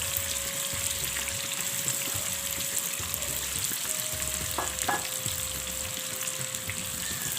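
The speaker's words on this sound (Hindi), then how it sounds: "ये जो मैंने प्याज आपको बताई थी ये हम फ्राई करेंगे" Onions frying in hot oil for chicken nihari, a dense, continuous crackling sizzle heard up close and steady throughout, with a faint tonal hum behind it and no voices.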